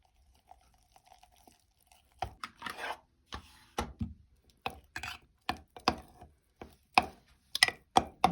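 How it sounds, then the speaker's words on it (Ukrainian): A spoon stirring hop sourdough starter and scraping the walls of a jar, with soft taps at first, then a run of close, irregular scrapes and knocks that grows busier toward the end. "все ретельно розмішуємо, зшкрібаємо стіночок"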